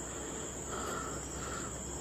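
Steady insect chirping, likely crickets, fills an empty factory building at night, a continuous faint high buzz with no voices.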